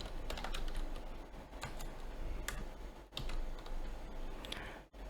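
Steady typing of C# code on a computer keyboard, close and crisp, with quick irregular key clicks and a few louder strokes like space or enter, over a faint hum and with no talk.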